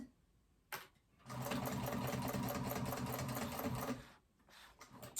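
A sewing machine runs a steady burst of stitching on a phone pouch, starting after a brief click and stopping after about three seconds, close and alone with quiet room tone around it.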